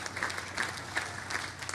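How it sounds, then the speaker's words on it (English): Crowd at the WMATA Metrorail Silver Line grand opening ceremony breaks into applause, a steady wash of clapping from a sizable audience lasting under two seconds with no voices over it. "give that a round of applause"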